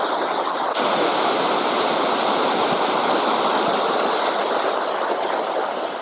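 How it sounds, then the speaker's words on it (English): A waterfall pours along a mountain hiking trail in the Pacific Northwest, a loud, continuous roar of rushing water with no pauses and no voices. "That waterfall though is pretty cool."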